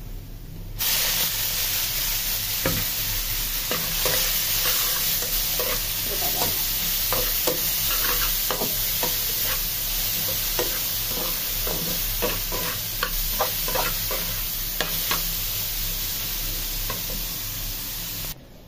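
Greens are tipped into a pan of fried onions and native chicken and stirred, giving a continuous, loud sizzling hiss broken by repeated scraping and clattering of a spoon against the pan.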